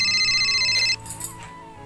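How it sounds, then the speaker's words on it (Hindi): A mobile phone's ringtone plays loud and close in a home, a repeating melodic tone that stops abruptly partway through, followed by a few short handling clicks. "ये लो आ गया इनका फ़ोन।"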